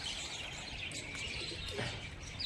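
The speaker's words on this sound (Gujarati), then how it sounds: "ટીનુભાઈ અત્યારમાં કબૂતરાને ખવડાવે છે દાણા નાખે છે" Pigeons on a rooftop terrace coo and chirp softly while being fed scattered grain, with faint wingbeats in a quiet, steady background.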